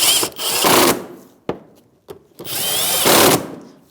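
A power driver with a 7 mm socket tightens a fender liner screw on a Chevrolet Malibu, two close, loud whirring bursts separated by a couple of sharp clicks and knocks.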